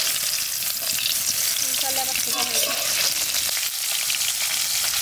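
Live koi fish, cut into large long pieces, sizzle and spit loudly in oil in a wok, a dense steady frying hiss that fills the whole stretch with no talking over it.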